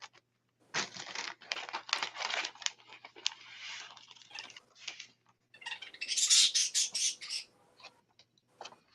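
Pet birds fussing nearby, soft squawks and chirps mixed with scratching and rustling, with a brief louder burst of high chattering partway through, amid quiet handling noises.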